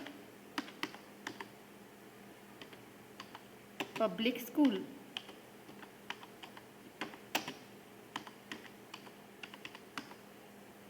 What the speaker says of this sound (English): I will type here sentence. I am typing here